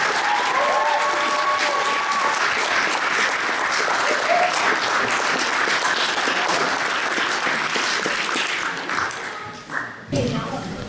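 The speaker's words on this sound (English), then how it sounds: "Round of applause." A room full of people clapping at a school sports awards banquet as the seniors are introduced, a loud, dense ovation that holds steady, then thins and tapers off near the end.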